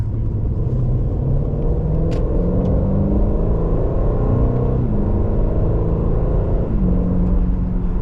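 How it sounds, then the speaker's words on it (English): A 2024 Aston Martin DB12 with a twin-turbo V8 and ZF 8-speed automatic pulls steadily, its engine drone rising and dropping back at several gear shifts, loud and close throughout. "beautiful shifts out of this ZF 8-speed automatic"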